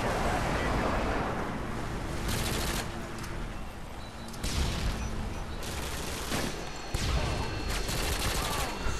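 Harrier air support strafes during a Call of Duty-style match, giving dense, sustained gunfire and rumbling blasts that swell in waves, loud and continuous, with faint speech beneath.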